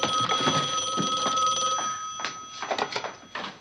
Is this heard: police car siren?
no